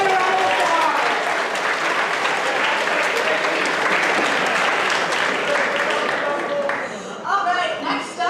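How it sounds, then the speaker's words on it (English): An audience at a school spoken word poetry final breaks into loud, sustained applause after the scores are read, dense clapping and cheering filling the room and then thinning toward the end. "Give it a round of applause"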